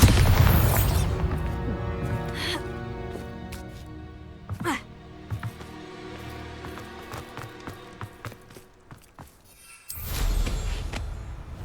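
A Bombarda spell explosion in Hogwarts Legacy opens with a heavy boom, followed by scattered impacts and thuds over a low background, then a second loud burst near the end.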